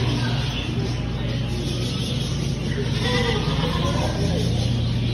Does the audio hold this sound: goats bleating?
yes